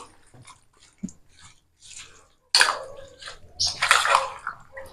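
A fruit salad being stirred with milk in a bowl, heard as sparse soft wet clicks and taps at first, then a louder stretch of sloshing, squelching mixing close by, with no speech.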